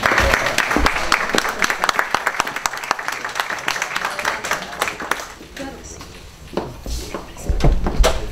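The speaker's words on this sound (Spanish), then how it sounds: "Un aplauso para ella." Audience applause after an introduction at a heritage lecture event, a fairly dense patter of clapping that thins out toward the end, with some voices and a low thump near the close.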